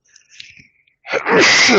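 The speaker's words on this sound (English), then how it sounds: "Excuse me, I'm going to sneeze here." Soft breathy intake sounds lead into a single loud, sharp sneeze near the end.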